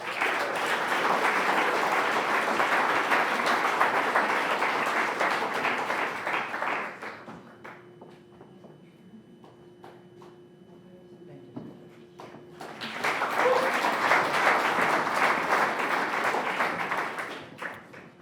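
Audience applause at a typography awards ceremony, dense sustained clapping that drops to a few scattered claps and quiet room sound midway, then swells back to full applause.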